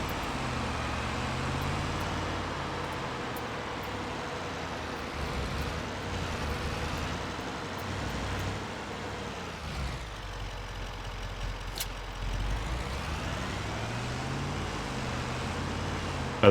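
A truck in Farming Simulator 25 drives along with a steady engine drone and rumble, the pitch shifting as it changes speed, and no voices over it.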